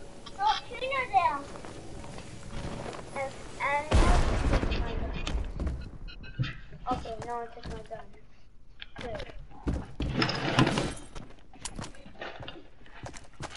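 Rapid bursts of video game gunfire crackle between stretches of excited talk, with the loudest volley near the middle and another cluster later, over a busy game backdrop.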